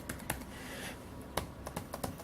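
Fingers type on the solid, non-flexing keyboard of a Lenovo ThinkPad T430 laptop, a quiet, irregular run of soft key clicks with a few sharper taps standing out.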